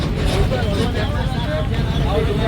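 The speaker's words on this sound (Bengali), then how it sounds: "এই যে বাসে আমরা উঠে গেছি" Steady low rumble of a moving bus heard from inside, with engine drone and road noise continuous throughout and people talking over it.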